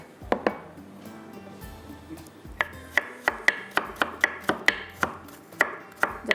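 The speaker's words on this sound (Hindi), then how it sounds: "इसको बारीक करते हैं चॉप, यहाँ पर बिल्कुल बारीक बारीक आपने चॉप कर लेना" Knife chopping fresh ginger finely on a board: a rapid series of sharp, close taps, sparse at first, then a steady even rhythm of about a dozen crisp strikes, with no talk.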